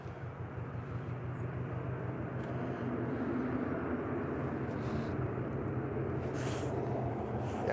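Airliner taxiing at Liverpool John Lennon Airport, a steady broad jet-engine roar at moderate distance that swells slightly over time.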